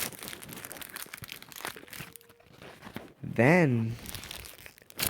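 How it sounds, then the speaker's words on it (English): A cardboard box being ripped apart, with dense crinkling, tearing and crunching for several seconds, then a brief spoken voice and more rustling. "I am ripping this box to pieces."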